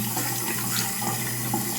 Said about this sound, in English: now we are going to confirm that we have running water